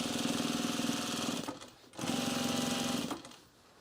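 A sewing machine runs in two steady bursts with a brief pause between, its rapid needle rattle turning clattery as the bobbin thread runs out, close and alone.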